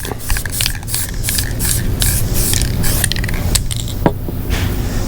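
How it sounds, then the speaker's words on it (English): An aerosol can sprays guide coat onto the back side of a custom-built rear speaker deck in a series of close, hissing bursts with short pauses and light handling noises between them. "Spray this back side as well."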